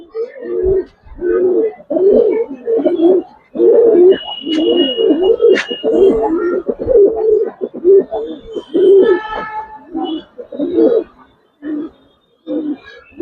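Giribaz pigeons, coloring and silver birds in a loft, coo steadily in overlapping low rhythmic calls, close and fairly loud, with a few faint chirps and whistles mixed in.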